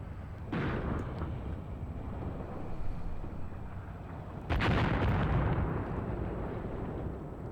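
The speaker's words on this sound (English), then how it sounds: "Look at that, the Russians are throwing artillery on their own position" Artillery shells exploding on a position in the war game Graviteam Tactics, two heavy booming blasts a few seconds apart, each followed by a long rumbling decay over low battlefield ambience.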